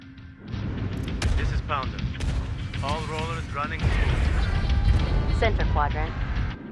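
Heavy gunfire and artillery during a battle in the EndWar strategy game, a dense rumbling barrage of booms and crashes under repeated radio-style voice chatter, growing louder in the second half.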